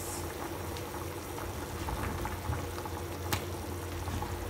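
Beef bulalo broth boils steadily in a pot as potatoes are added, a dense, continuous bubbling and simmering with a small splash, close and alone.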